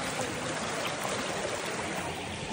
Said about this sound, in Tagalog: ang tubig ni agi sa kalsada, kay ang drainage na asto nga